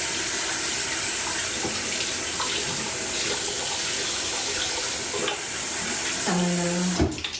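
Tap water runs steadily in a continuous hiss as a face is washed, with light splashing and a short tonal squeak near the end.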